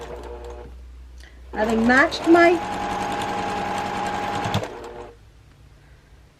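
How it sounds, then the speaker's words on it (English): Sewing machine runs a steady whirring burst of about three seconds while stitching a quarter-inch quilt block seam, with someone talking before and over the start of the stitching. "So I'm going to start at this end, 1/4 inch, and I'm going to just stitch,"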